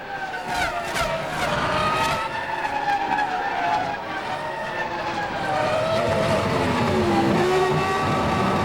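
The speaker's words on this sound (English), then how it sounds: "down below Montoya has spun out coming through that final chicane, the right-left" A Formula One car at the 2003 Canadian Grand Prix spins out through the final right-left chicane, with loud sustained engine roar and tyre skidding that rise and fall over the circuit's continuous racing noise.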